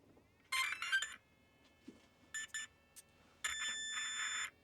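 A sequence of electronic startup beeps from a Typhon GROM 223S RC car's ESC on a 2S battery: a few short tonal chirps, a pair of beeps, then a longer sustained tone, loud against a quiet background.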